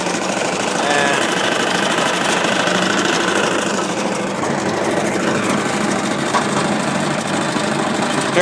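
The motor of a homemade ATV snow blower, fitted with a patched-together belt, runs loud and close in a steady, rough, knocking drone that continues without a break.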